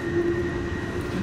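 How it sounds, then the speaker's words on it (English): Train running on the horseshoe curve, a steady close rumble with a sustained whining tone, continuous throughout a short stretch. "Comes a train up the other side of the horseshoe"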